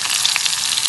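Asafoetida dropped into hot oil sizzles in a loud, steady hiss with faint crackles throughout, close and alone without voices.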